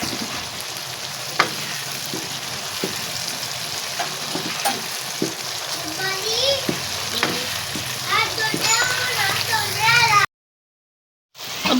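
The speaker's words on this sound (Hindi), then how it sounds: "ये ऐसे इसको हिलाते जाएं, इसको सब्ज़ी को भूनते जाएं।" Potatoes, peas, fenugreek leaves and onion stir-fry in a pan with a steady, close sizzle and frequent spoon scrapes and clinks, while a voice talks over it; the sound cuts out abruptly near the end.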